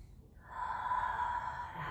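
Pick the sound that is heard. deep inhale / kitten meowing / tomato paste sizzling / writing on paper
deep inhale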